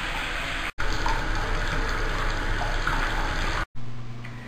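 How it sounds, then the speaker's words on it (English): Water runs and sprays steadily from a leaking faucet in a house, a loud continuous hiss broken by two brief stops. "Even when it's actually directed to come out of the faucet, it's still leaking."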